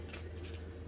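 Tarot cards being shuffled by hand in a short, continuous papery riffle, close and fairly quiet with no talking.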